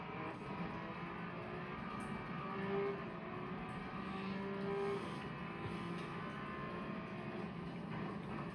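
A race car engine drones steadily in an endurance racing video game, holding a constant mid-level roar throughout with slight rises in pitch and no clear gear changes.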